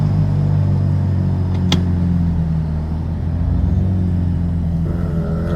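Automatic Mazda RX-7 rotary engine running steadily close by, a continuous loud low rumble with one brief sharp click near the middle.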